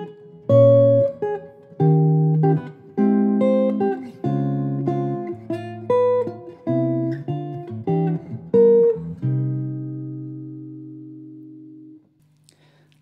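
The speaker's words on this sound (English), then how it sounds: "If you would play this in a jazz way, in 3-4, it would sound like this." Solo guitar plays a jazz-style rendition in 3/4, with a steady run of chords and melody notes ending on a long ringing chord; no talking.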